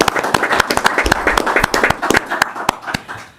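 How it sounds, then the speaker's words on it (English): A quick round of applause at a joint village board and plan commission meeting, with several people clapping close by in sharp, uneven strikes for a few seconds. "I want to thank you, gentlemen, with a little quick round of applause."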